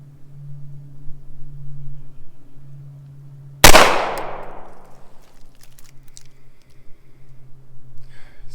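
A single sharp Beretta M9A3 pistol shot cracks at an outdoor range, loud and close, with a short echoing tail fading over about a second before quiet returns.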